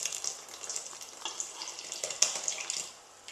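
Crepe batter being whisked very quickly in a bowl gives rapid, light scraping and clicking strokes, close and fairly soft, with no voices.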